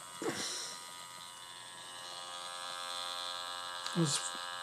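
A small electric motor on a test run beneath an N scale model railroad layout gives a steady, fairly quiet buzzing whir throughout, with a couple of brief louder knocks near the start and end.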